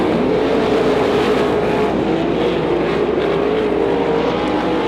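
IRA Outlaw Sprint Series sprint cars race at Beaver Dam Raceway in a feature event. A loud, continuous engine roar holds steady as several cars run together.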